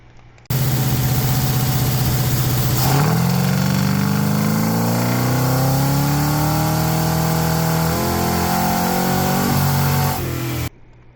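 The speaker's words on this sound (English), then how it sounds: "You'll hear the RPM just kind of stall, and then all of a sudden it dumps a bunch of fuel and the RPMs continue." A 1974 Plymouth Cuda V8 with ACES EFI, revved against a fuel-cut limiter, gives a loud, close, steady roar. Its pitch bogs and stalls, then climbs again in rising sweeps, before the engine cuts off abruptly.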